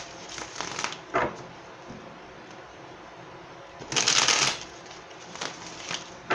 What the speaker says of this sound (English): I'm going to give it a quick shuffle